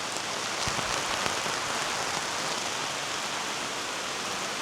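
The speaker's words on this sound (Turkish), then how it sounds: "Şu an çok fena bir yağmur bastırdı. Dışarıda fırtına var." Heavy rain from a storm drums steadily on a large tent where a pellet stove is burning, a dense, even hiss of drops with occasional sharper taps, loud and without speech.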